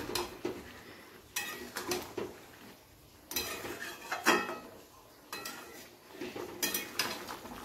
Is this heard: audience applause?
no